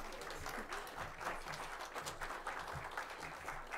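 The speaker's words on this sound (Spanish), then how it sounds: "Un aplauso, ¿no?" Quiet, distant applause rises from the audience at a conference's closing plenary session, a soft patter of clapping heard across the hall without talk.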